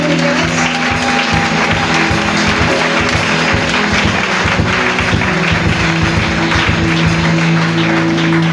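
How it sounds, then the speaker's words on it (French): Sustained applause and cheering from a crowd at a ceremony, loud and steady throughout, with a dense wash of clapping and faint voices mixed in. "pour souhaiter la cordiale bienvenue avec des acclamations appuyées"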